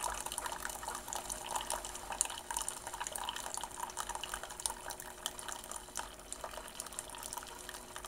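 A Keurig coffee machine brews, a faint steady trickle of liquid pouring and dripping into a cup, close by and alone.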